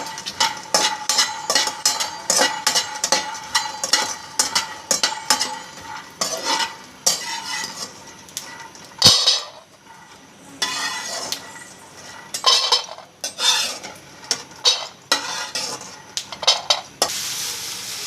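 Sesame seeds and other laddu ingredients dry-roasting in a pan, stirred steadily with a utensil that scrapes and clinks against the metal in a continuous close rhythm, with faint sizzling beneath.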